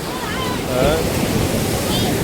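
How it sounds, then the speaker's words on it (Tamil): Sea waves rolling onto a beach, a steady broad wash of surf with wind buffeting the microphone, moderately loud, with faint voices in the background. "அந்த அலையும் தொடர்ந்து அலை அச்சுட்டே இருக்குது"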